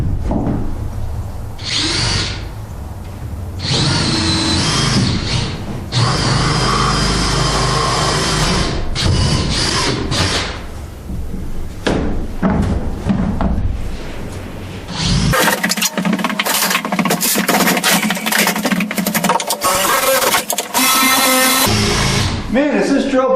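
A power drill with a dull bit bores holes in a woodshop, a loud, dense whine and grind running almost nonstop with short breaks, and people talk over it now and then.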